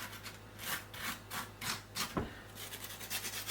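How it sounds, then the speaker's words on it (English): A fresh garlic clove is rubbed over dry toasted bread, giving close, soft, rhythmic scraping strokes, about two per second, that rasp evenly with no talking over them. "give it a rub over the bread"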